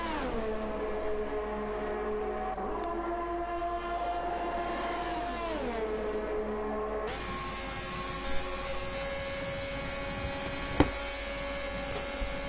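F1 cars climbing a hill in F1 2021 on the Belgium circuit, high whining engines rising and falling in pitch as they pass and shift gears, a dense continuous racing drone with a few brief knocks.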